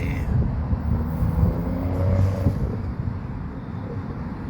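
Road traffic rumbles steadily nearby, with the low drone of cars and a swelling pass of a vehicle engine running throughout.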